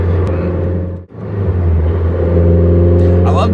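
A Toyota MR2 Spider's engine drones loudly and close, dipping briefly near the start and then building to a steady, strong rev with a rising tone near the end, while someone talks over it.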